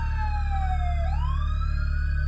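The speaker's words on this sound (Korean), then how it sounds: "조금 있다 집 앞에 구급차가 섰다" An ambulance siren pulls up in front of a house, a loud, steady electronic wail whose pitch slides down, then sweeps back up, heard alone with no voices.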